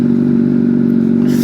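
Super sport motorcycle riding on a rutted gravel road, a loud, steady droning engine with rough clatter and crunch from the loose surface throughout.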